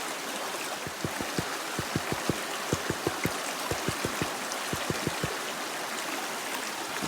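Sluice box material being panned for gold, giving a steady rushing wash of water broken by a quick run of sharp, regular clicks and taps of gravel against the pan.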